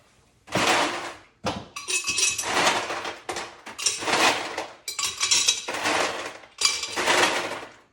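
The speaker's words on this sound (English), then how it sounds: "I'm going to fill it up with ice." Ice cubes poured and scooped into a martini pitcher in several loud, close bursts of rattling, clinking and clattering, separated by short pauses, with no talking.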